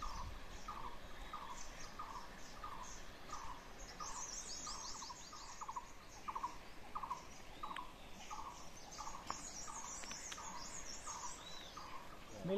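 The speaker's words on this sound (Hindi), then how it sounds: "यहाँ पे इतनी अच्छी अच्छी चिड़ियाओं की आवाजें आ रही हैं" Birds sing and chirp steadily outdoors, a repeated call cycling with other tweets layered over faint background hiss; no one is talking.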